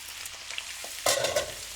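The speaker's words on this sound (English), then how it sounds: "Got some olive oil in the pan, a good 4 or 5 tablespoons. Then the potatoes will just go straight in." Potatoes go into a pan of olive oil for a Spanish tortilla, with a soft hiss that jumps to a brief, louder sizzle as they hit the hot oil.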